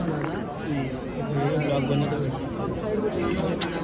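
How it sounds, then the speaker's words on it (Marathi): Crowd chatter fills a packed Ganpati darshan queue at Eknath Shinde's Ganpati during Maghi Ganpati, a dense, steady babble of many nearby voices with occasional louder calls rising above it. "गर्दी बघा, गर्दी गर्दी गर्दी."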